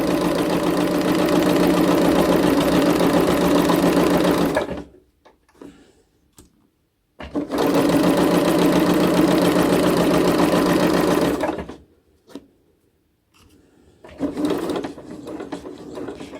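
Sewing machine running fast while stitching a child's fabric face mask, two long steady whirring bursts of about four seconds each with short pauses, then a shorter burst, loud and close.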